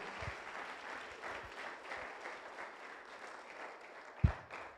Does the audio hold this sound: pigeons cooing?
no